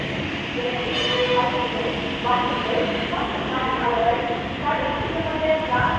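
An express train rolls past at a station platform in Tamil Nadu, a loud, continuous rumble with repeated rhythmic wheel clatter and squeals throughout.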